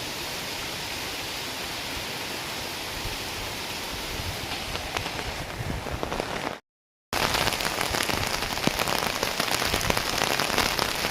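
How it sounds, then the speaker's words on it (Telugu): Heavy rain pours in a dense, constant hiss, broken by one brief moment of silence before it carries on just as loud. "ఫుల్ వర్షం"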